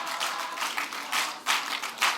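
Church congregation clapping hands during worship, a steady rhythmic patter of many hands with louder accented bursts every half second or so, heard without voices.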